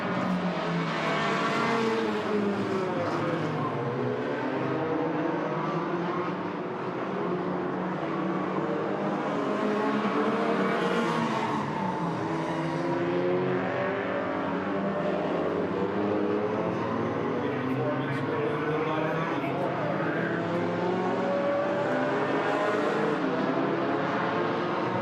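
Hornet-class race cars roar down the backstretch of Agassiz Speedway, BC, during an enduro roval race: a loud, continuous overlapping engine drone from several cars with shifting pitch as they jostle past lapped traffic, with no talking.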